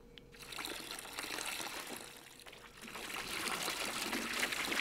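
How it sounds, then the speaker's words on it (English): Liquid pours steadily during beer brewing in the Brewmaster Beer Simulator video game, a continuous soft splashing stream of moderate, even loudness with no talk over it. "Alright, and then we got to pour."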